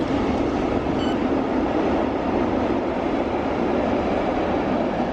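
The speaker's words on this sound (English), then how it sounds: "There's a freight train going in the opposite direction" A freight train passes close by in the opposite direction, a dense, steady rumbling roar that holds evenly throughout, with no one talking.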